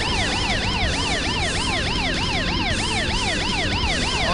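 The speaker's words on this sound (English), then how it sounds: "I hate that when they just sit there with the sirens" Police siren in the truck-driving video game Hard Truck 2, a loud, continuous rising-and-falling wail cycling rapidly over engine rumble.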